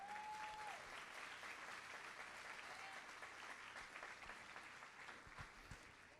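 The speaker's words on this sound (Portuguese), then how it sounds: "Aplauda melhor, vamos lá" A church congregation at a Sunday evening service applauds in a dense, even wash of clapping that fills the whole stretch at a moderate, slightly distant level, with faint voice traces early on.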